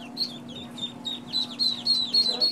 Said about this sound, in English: ducklings chirping to their heart's delight just after hatching in the suburbs.